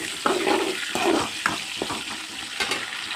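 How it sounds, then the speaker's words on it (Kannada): Green chillies and curry leaves fry in a pan for a Malnad-style raw jackfruit stir-fry, giving a steady close sizzle broken by several brief stirring scrapes and clinks, with no talking. "ಫ್ರೈ ಮಾಡ್ಕೊಳ್ಳಿ."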